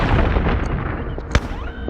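Gunfire from the video game Tomb Raider Chronicles, a dense burst of booming game sounds followed by one sharp loud shot, all loud and close with no talking.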